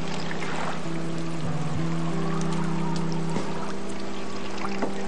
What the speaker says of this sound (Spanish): Un poco de aceite de oliva.